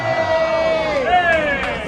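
Crowd at a rap performance cheering and whooping loudly for a brief burst, voices rising and falling together nearby.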